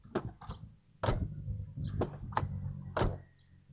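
A Renault Laguna 3 car door is closed over and over, a series of sharp, close slams and latch clicks spread over a few seconds, some faint background noise in between and nobody speaking.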